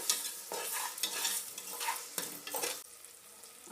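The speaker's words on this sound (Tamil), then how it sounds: "எண்ணெய் ஊற்றி வெங்காயம், கருவேப்பிலை, ஜீரகம், சோம்பு, தக்காளி, உப்பு சேர்த்து நல்லா வதக்கிக்கலாம்." Onion, curry leaves, cumin, fennel and tomato sauté in hot oil as the base of a mutton soup, a steady close sizzle broken by repeated scraping stirs of a spoon in the pan.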